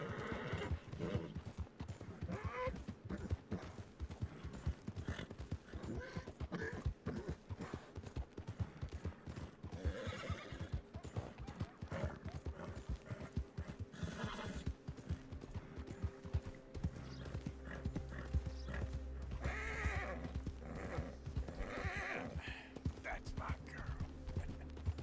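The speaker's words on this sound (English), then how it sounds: "You're okay, horsey. Easy there, girl." Hooves clip-clop steadily on a horse in Red Dead Redemption 2, with neighs and whinnies breaking through, mixed under game sounds and a voice talking throughout.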